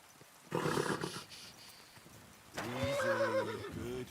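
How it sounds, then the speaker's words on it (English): A horse in the video game Kingdom Come Deliverance gives two loud, close whinnies. The second is long and wavering, and a short quieter gap separates them. "Easy, good horse."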